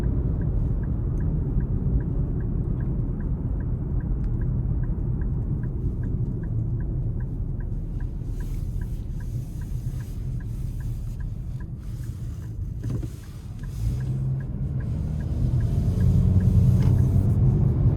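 Steady low road rumble and tire noise from inside a 2026 Nissan Kicks SR Premium driving in eco mode, with a soft ticking indicator and faint wind noise rising toward the end, no talk.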